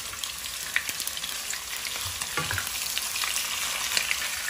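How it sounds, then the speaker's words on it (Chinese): Eel pieces frying in hot oil with scallion and ginger give a steady, close sizzle throughout, with scattered sharp crackles and pops and no voices. "我们起锅烧油，放入葱姜，爆香后放入鳗鱼段，"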